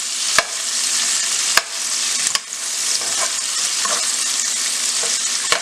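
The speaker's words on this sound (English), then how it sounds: "And we're just going to give that a stir." Asparagus seasoned with black pepper and seasoning salt sizzles steadily in a hot pan, with a few sharp utensil clacks against the pan as it is stirred. Close, continuous frying hiss with no talking.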